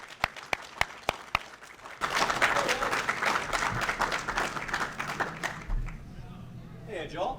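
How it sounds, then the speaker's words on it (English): Applause from a convention audience at a Mass Effect panel at Game On Expo 2017: a few sharp single claps, then a full crowd bursts into sustained clapping and cheering that slowly tapers, with voices over it. "And let's give a warm welcome applause for Meer right here, guys."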